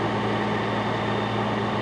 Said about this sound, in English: You can hear the roar of the fire engines behind me.